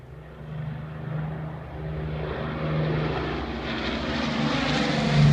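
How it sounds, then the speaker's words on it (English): An airplane makes a low pass near the erupting Fagradalsfjall volcano in Iceland, a steady, loud droning engine roar with a low hum that swells gradually as it nears, heard alone without voices. "Here is the beautiful low pass of the airplane."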